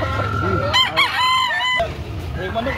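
A rooster crows once nearby, loud and drawn out, with some low background chatter and clucking before and after, in Carbon, Cebu.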